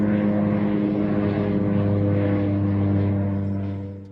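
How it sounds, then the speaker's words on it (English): A propeller airplane passes overhead, spraying something, with a loud, steady droning engine hum that holds for several seconds before easing off slightly at the end; no voices. "This plane flew over me this evening and was spraying something."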